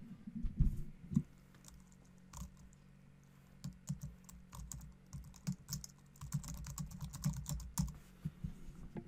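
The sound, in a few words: typing an email address on a computer keyboard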